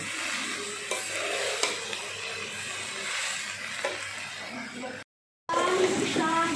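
Cauliflower and mixed vegetables stirred together in a kadai with oil, giving a continuous loud sizzle with repeated spatula scrapes, briefly cut to silence before resuming.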